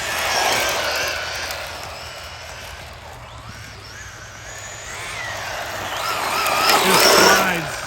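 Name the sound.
ARRMA Infraction 3S BLX RC car driving and drifting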